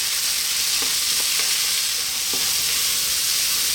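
Beans frying in a pan over high heat make a loud, continuous hiss and sizzle, with a few soft stirring knocks scattered through it and no voices.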